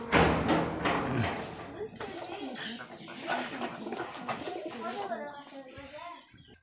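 Giribaz high-flyer pigeons cooing at close range, soft repeated throaty coos running through the clip beneath someone talking.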